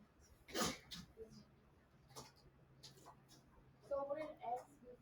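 A single sharp sneeze bursts out near the start in a quiet classroom during a math lesson, followed by faint scattered voices and small background noises.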